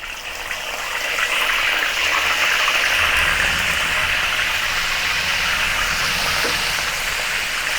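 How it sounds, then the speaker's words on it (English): Shrimp deep-frying a second time in a small amount of hot oil at 190 degrees for Hong Kong typhoon shelter garlic prawns, a loud, steady rushing sizzle that swells after the first second and holds evenly with no talk. "Now fry the shrimp once more at a higher temperature, 190 degrees"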